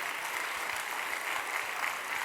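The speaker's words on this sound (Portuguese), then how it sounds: "E aplauda bem forte aos céus." A church congregation at a Sunday service claps together in a dense, steady burst of applause, fairly close and even, with no speech over it.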